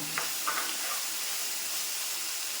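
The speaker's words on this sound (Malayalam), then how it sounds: "ഇത് നമുക്ക് കൂട്ടി ഇങ്ങനെ ഇളക്കിയിട്ട് വീണ്ടും ഇത് മൂക്കട്ടെ" Okra in coconut milk curry fries in a pan over a medium gas flame, a steady close hiss and sizzle with a few faint stirring clicks early on and no talking.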